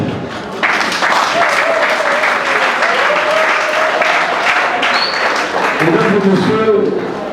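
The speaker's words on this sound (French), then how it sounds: "Et je vous prie de les applaudir." Wedding guests applaud three newly married couples, the clapping swelling into a loud, sustained wave with cheers and voices woven through it.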